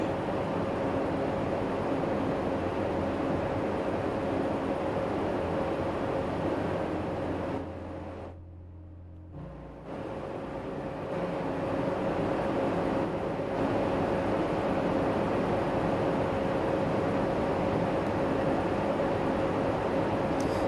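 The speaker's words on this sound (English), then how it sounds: "That's one slow-ass train." A slow train rolls along in the Rail Route PC game, a steady low rumble and hiss that briefly drops out midway before resuming, with no talking.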